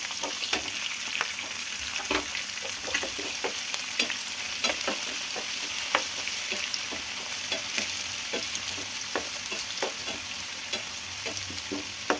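Onions and two green chilies fry in hot oil for a green chicken curry, a constant close crackling sizzle broken by frequent sharp spoon taps and scrapes against the pan as they are stirred, with no talking.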